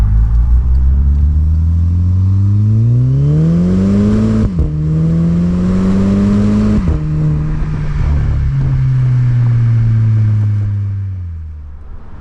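A Volkswagen Golf GTI (MK6) with a catback exhaust rumbles deeply as the engine revs up through gears, with short dips and burble at the shifts, then eases off and fades.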